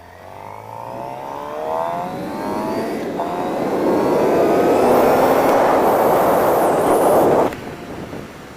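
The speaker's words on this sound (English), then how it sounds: "After this car." A car accelerates and drives past on a street, its engine and road noise rising to a loud close roar before cutting off abruptly, with no one speaking.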